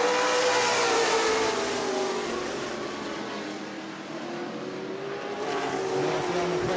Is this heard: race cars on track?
yes